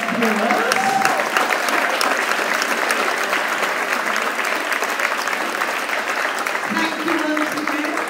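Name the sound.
applause at a school prize giving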